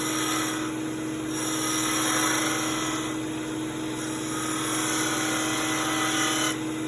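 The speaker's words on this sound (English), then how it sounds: "I think I'll just get my spindle gouge out here and just kind of shape some of this stuff." A spindle gouge shapes wood on a lathe while turning a mortar and pestle, producing a continuous loud motor hum with a whooshing scrape that swells and fades as the cut changes.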